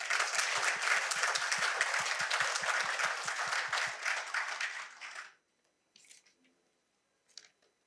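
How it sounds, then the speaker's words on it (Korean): Lecture audience applauding a university president, a dense burst of many hands clapping for about five seconds that then stops abruptly, followed by near silence with a couple of faint rustles. "박한일 총장께도 박수 한번 주십시오."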